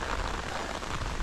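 Steady rain falls on the Appalachian Trail in cold weather with lingering thunder showers, a brief, soft, even patter with no other sounds over it.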